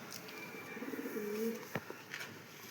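A single pigeon, a racing pigeon with an open tail, gives a short low coo near the middle over faint background hiss, with a couple of small knocks after.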